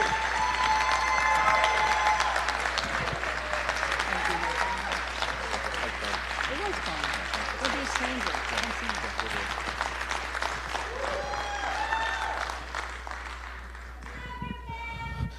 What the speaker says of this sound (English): Y'all give our Lieutenant Governor a round of applause